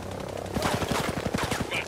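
Gunfire from a heavy weapon in the military shooter Ghost Recon Breakpoint, a rapid burst of about a dozen evenly spaced shots, loud and close, with a voice briefly present.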